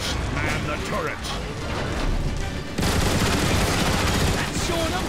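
Turret gunfire aimed at Decepticon seekers in Transformers: War for Cybertron, a steady rattling barrage that swells louder partway through, with voices talking over the shooting and low booms underneath.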